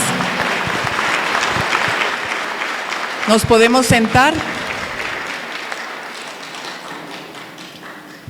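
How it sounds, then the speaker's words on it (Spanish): Parish congregation clapping at the close of a prayer vigil, a fading round of applause with taps and thumps, interrupted midway by a person speaking up close before the clapping tapers off. "Damos un aplauso fuerte."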